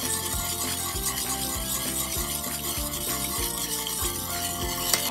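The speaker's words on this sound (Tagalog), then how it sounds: "Dahil sa paggawa ng ube halaya, ang ating gagawin ay maghalo." Ube halaya, a thick purple yam paste, being stirred in a pan with steady, repeated scraping and dragging strokes, close and continuous with no talking.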